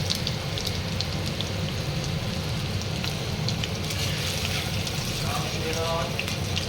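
Chopped garlic and ginger fry over a high flame with a dense, continuous crackling sizzle that stays loud and even, and a voice is faintly present.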